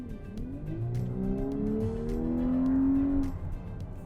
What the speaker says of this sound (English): let's go ahead and get an acceleration test in sport mode